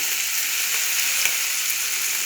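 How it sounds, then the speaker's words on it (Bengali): Pabda fish coated in spice paste frying in hot oil gives a steady, close, dense sizzle that holds evenly throughout, with no talking. "মশলা মাখিয়ে পাবদা মাছ ভাজা করছে"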